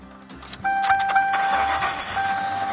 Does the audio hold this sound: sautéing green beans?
no